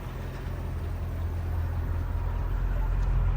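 A Mercedes CL55 AMG V8 idles with no secondaries or resonator, a steady deep low rumble with a throbbing pulse, close and continuous, rising slightly in level toward the end.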